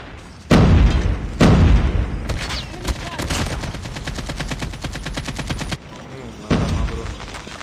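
Heavy booming blasts of bomb explosions in the mobile shooter Call of Duty Mobile, with two loud hits close together near the start and another near the end, separated by a long stretch of rapid, dense gunfire.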